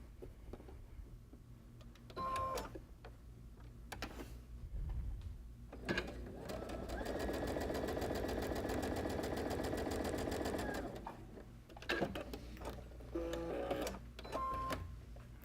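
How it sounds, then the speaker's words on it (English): A sewing machine stitches a quarter-inch seam along the side of quilt fabric, running steadily for about four seconds at the centre, with short mechanical clicks and handling noises before and after. "I'm just going to stitch along the side here using that quarter-inch seam allowance"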